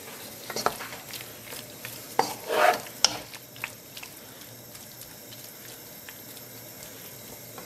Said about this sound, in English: I'm just going to give it another stir now.